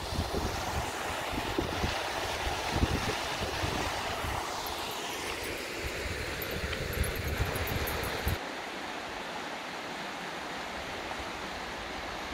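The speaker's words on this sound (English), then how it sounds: "Wasn't expecting this wind." Wind gusts across a riverside campground near hot springs in the late afternoon, a loud steady rushing roar buffeting the microphone, then easing to a quieter hiss near the end, with no voices.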